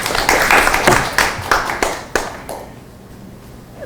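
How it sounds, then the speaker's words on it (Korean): Audience applause at a community education forum in Goesan: a burst of clapping, loud and close, that thins out and fades to quiet room tone after a few seconds. "박수로 부탁드립니다."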